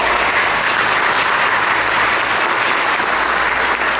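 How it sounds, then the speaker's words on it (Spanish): A church congregation applauds together in worship, a full, steady wash of clapping from many hands that holds strong and unbroken throughout. "Un aplauso para el Señor."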